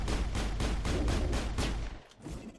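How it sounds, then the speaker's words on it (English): A grenade explodes in the Mass Effect video game, heard as a loud burst of rapid crackling blasts that cuts off abruptly and leaves a quieter rumble, with no talk. "Explosion!"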